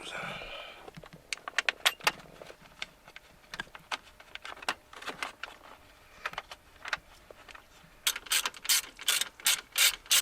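Small screws being fitted into a car radio mount on a 1993 white notchback, producing a series of sharp metallic clicks and ratcheting ticks close by, with a denser burst of rapid clicks toward the end.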